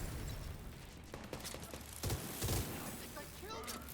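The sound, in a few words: minigun firing in the video game The Division 2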